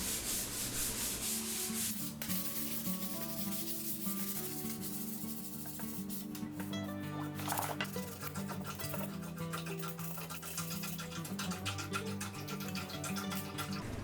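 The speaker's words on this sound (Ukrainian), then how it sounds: "Також я трошечки пройдусь по поверхні наждачкою для того, щоб е, вона була дуже гладенькою і готовою для нанесення покриття." Sandpaper rubs over an alder wood surface in continuous back-and-forth strokes, a close, even scratching hiss that lasts throughout, with faint tonal sounds underneath and no talking.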